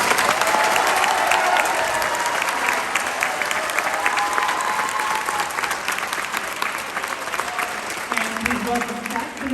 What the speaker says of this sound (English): Would you give them a huge round of applause, please?